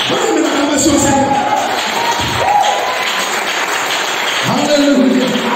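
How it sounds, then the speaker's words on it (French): A church congregation cheers and acclaims the Lord with a mix of clapping, shouts and raised voices, a lively crowd roar that rises and swells in waves throughout. "Donnez une acclamation au Seigneur"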